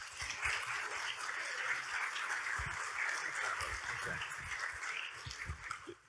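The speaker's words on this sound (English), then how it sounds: "another round of applause for Sheriff Baxter and his great RockTech team" A crowd claps steadily through a community event honoring Sheriff Baxter and his RockTech team, a dense, sustained patter of applause with a few duller thumps underneath.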